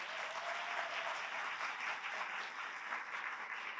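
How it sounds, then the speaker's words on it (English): Dense, steady audience applause at a symposium as youth panelists come up, a continuous wash of many hands clapping, heard from a distance at moderate loudness. "if we could give them a gigantic round of applause"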